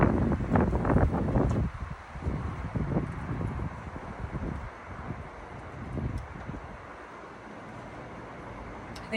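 Wind gusts outdoors in a jungle, a loud rushing buffet at first that settles into a steadier, softer blowing; no speech.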